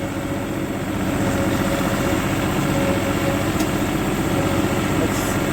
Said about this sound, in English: I can give the engine a good run